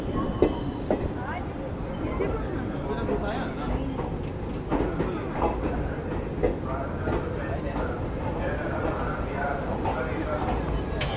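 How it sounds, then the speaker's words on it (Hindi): Garib Rath Express train arriving at Patna Junction, with a low rumbling roll and rhythmic rail clatter under continuous nearby talk. "यहाँ हमारी गरीब रथ पहुँच चुकी है पटना जंक्शन"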